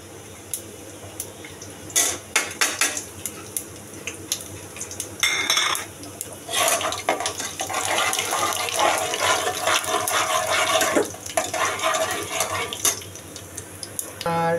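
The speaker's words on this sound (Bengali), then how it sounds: "তো আমি খিচুড়ির জন্য ফোড়নটা দিয়ে দিচ্ছি" Spice tempering for khichuri hits a hot pan and crackles in a loud, sustained sizzle through the middle stretch, framed by clattering utensils and pan knocks before and after.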